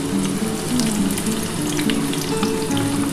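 Onions dropped into hot oil for a rohu fish dish sizzle in a dense, steady hiss with light crackling, close up and unbroken for a few seconds, no one speaking.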